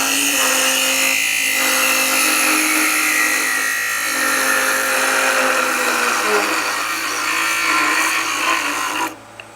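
A wood lathe turns the slightly concave bottom of a small wooden box, giving a steady, loud whirring hum with a cutting hiss that runs unbroken for about nine seconds before it drops away at the end.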